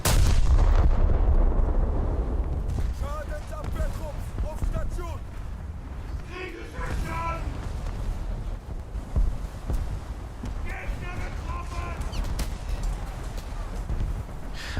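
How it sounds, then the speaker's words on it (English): Battleship Von der Tann's wing turret firing in a naval video game, with deep, booming gunfire and rumbling blasts under ongoing wind and sea noise while someone talks over it. "There goes that wing turret again."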